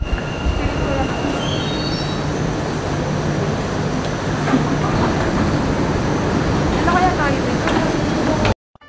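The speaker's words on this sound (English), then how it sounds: "Darating na yung train namin." A Dubai metro train pulling into Mall of the Emirates station: loud rumbling and clacking wheels, high whining squeals of braking as it arrives, and faint voices beneath, ending in a sudden stop.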